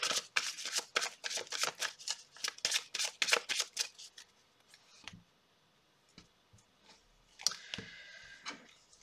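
A deck of tarot cards being cut and shuffled, with a quick run of crisp riffling snaps for about four seconds, then softer scattered card taps and slides, close and alone.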